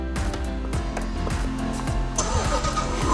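An electric ride-on toy Jeep Rubicon, black licensed series, is switched on, giving a steady motor-like hum with repeated soft clicks and a brighter tone rising near the end.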